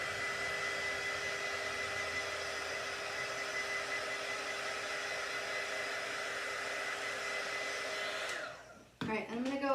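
A hair dryer drying chalk paint on a home decor craft piece: a steady, loud blowing whir that runs alone for several seconds before cutting off, followed by a brief clatter.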